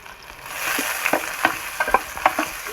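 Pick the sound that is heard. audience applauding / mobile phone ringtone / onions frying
onions frying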